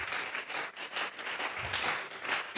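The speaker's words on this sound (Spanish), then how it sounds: "Vamos a regalarle ofrenda de palmas al Dios de la gloria." A church congregation applauds as an offering to God, with dense sustained clapping from many hands that swells and ebbs across the room and no speech over it.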